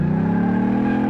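A Ford Crown Victoria taxi engine in Car Mechanic Simulator 2018, a loud, steady, close-up drone held at high throttle for about a second.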